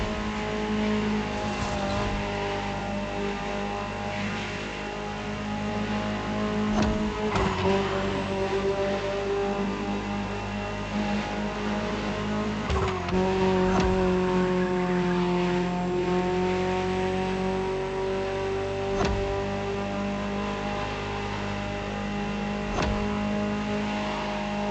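A Ferrari supercar engine in The Crew Motorfest drones loudly and steadily, its tone shifting slightly as the revs change a couple of times. No voices are heard over it.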